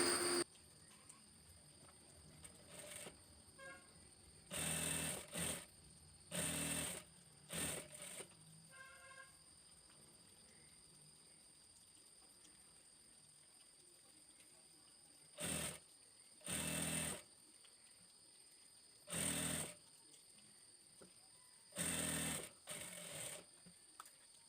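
Sewing machine stitching a white fabric piece onto the sleeve of an Arabic dress, running in several short bursts of a few seconds each, separated by pauses, fairly close and loud.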